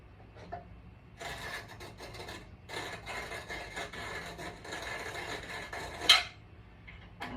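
Hand-crank tool removing material during a 1968 Chevelle 421 small-block build, giving a steady close rasping, scraping grind in repeated strokes with one sharp louder scrape near the end; no talking.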